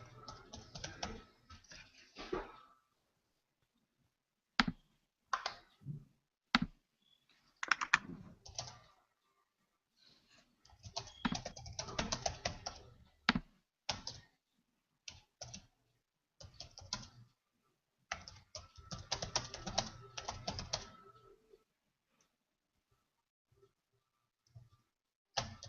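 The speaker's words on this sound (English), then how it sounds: "I'm thinking more than typing." Intermittent bursts of clattering keystrokes on a computer keyboard, close and fairly quiet, with irregular pauses between runs of typing.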